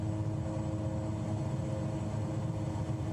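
Steady propeller-plane engine drone in Flight Simulator 2024, a continuous even hum holding at a constant level throughout with no talking.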